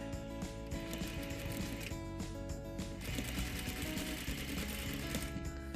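A sewing machine stitches a quarter-inch seam on a homemade face mask, with a continuous close mechanical whir and rapid needle clatter that run without pause, no voices over it.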